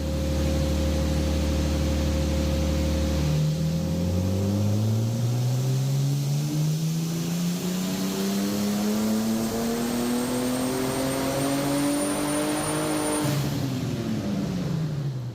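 A turbocharged BMW E36 engine on a dyno, loud and close, holds a steady drone, then climbs continuously in pitch through a long full-throttle pull and drops sharply off at the end.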